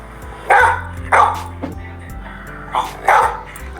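A dog barks four times, sharp and close, in two pairs separated by a pause, over a low steady hum.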